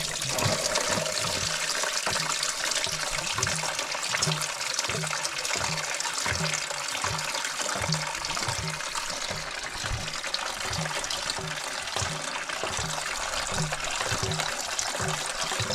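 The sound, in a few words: coolant draining from a removed car coolant hose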